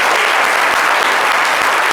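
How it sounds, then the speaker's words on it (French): A crowd at a live television show with a music group applauds loudly and densely without pause, a thick, even roar of clapping. "on a déjà quelqu'un qu'on va encourager avec des applaudissements"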